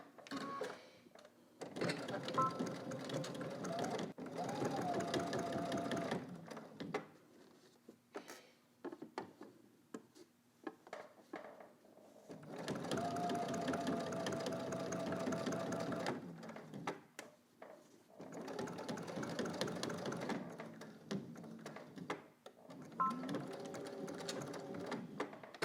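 Sewing machine stitching the top of a polo shirt placket slash, back stitching at start and end; three long bursts of steady rapid mechanical whirring separated by quiet pauses, close and clear.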